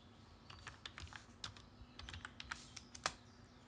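Keystrokes on a computer keyboard, close and fairly quiet, in an irregular run of separate clicks and small bursts over a faint steady hum, with no talking.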